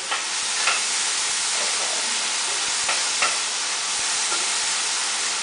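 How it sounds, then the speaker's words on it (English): Blueberries and sugar being stirred with a wooden spoon, a steady wet churning texture with soft repeated scrapes and sloshes, close and continuous, with a brief word spoken near the start. "Mix your berries around."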